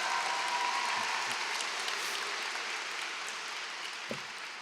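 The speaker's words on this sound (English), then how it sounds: "Please, a huge round of applause for them." Audience applause at a college graduation recognition ceremony, a dense steady clatter of many hands held at an even level for the whole stretch, faintly tapering near the end with no talk over it.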